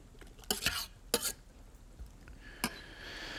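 Cornstarch paste stirred into sauce in a pan: a few sharp scraping and clinking strokes of a utensil against the pan, close, separated by brief pauses, over a faint sizzle.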